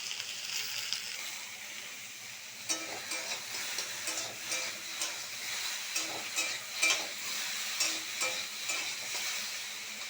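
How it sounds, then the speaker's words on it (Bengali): Okra and potatoes fry hard in a pan over high gas, with a steady bright sizzle broken by repeated stirring scrapes and clatters, close and fairly loud throughout. "আলুর সাথে ভেন্ডিগুলো একটু লাল লাল করে ভাজতে হবে।"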